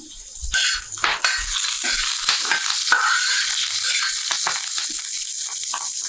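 Chilies and peanuts roasting in oil in a pan, a bright crackling sizzle with spatula scrapes and a few clinks at the start, then steady frying.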